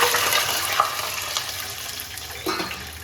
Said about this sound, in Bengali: এবারে এই ভাতের এই পাত্রটার মধ্যে আমি 6 কাপ এই যে জল আমি এর মধ্যে দিয়ে দেবো।